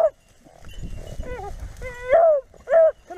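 Pack of beagle hunting dogs whimpering and yipping nearby, several high whines and short yips rising and falling over a low rumble of movement, fairly loud in bursts.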